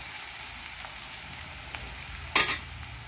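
Vegetables salted and frying in a pan give a steady soft sizzle, with a couple of faint scrapes and one sharp, close clatter of a spoon stirring near the end.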